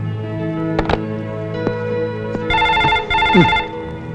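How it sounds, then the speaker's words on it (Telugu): A telephone rings in repeated electronic bursts, loud and close, with a few sharp clicks and clatters around the rings. "ప్రొద్దున్నుంచి ఫోన్ మోగి మోగి విసుగు తెప్పిస్తుంది"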